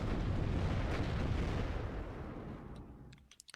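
An M67 recoilless rifle in WARNO fires as infantry support, a heavy booming blast that rolls on and slowly fades over a few seconds, ending in scattered faint pops.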